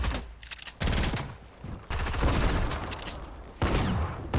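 Automatic weapon fire in the video game Fortnite, long sustained bursts of rapid shots, loud and close, broken by brief pauses between volleys.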